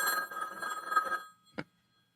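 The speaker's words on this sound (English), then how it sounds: "Then we hear the telephone again." A telephone bell rings in a radio drama scene set in a starship's engineering section. A sustained ring fills the first second or so, then a single short ring follows after a pause, with near silence at the end.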